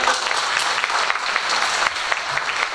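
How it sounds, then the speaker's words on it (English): An audience at a Herricks School District middle and elementary school spring art show breaks into sustained applause, a thick, even roar of many clapping hands that holds steady throughout at moderate loudness. "So just give yourselves a round of applause for taking the time to even do this today."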